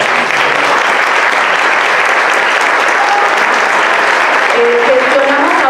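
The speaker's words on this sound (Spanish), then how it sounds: "Les pido que si se levantan y les regalamos un aplauso." An audience of guests applauds volunteers at a community recognition event, steady close clapping filling the space throughout, with a few brief voices rising near the end.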